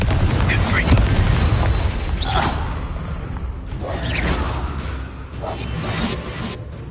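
Confringo fire-blast spell explosions from Hogwarts Legacy: a few booming, whooshing blasts spaced a couple of seconds apart over a steady low rumble of in-game combat.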